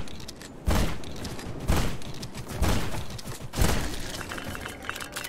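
Gunfire in the video game Black Skylands: four loud, sharp shots spaced about a second apart, each with a booming low thump and a short decaying tail, over a steady background of game ambience and no talking.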